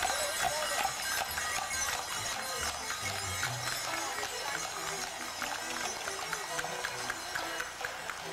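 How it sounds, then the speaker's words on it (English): Horse-drawn carriages in harness with jingle bells pass during a Victorian-style Yuletide celebration, hooves clip-clopping in a fairly quick irregular rhythm at moderate distance over a busy, bright background. "The horses and carriages wear their finest harnesses and jingle bells."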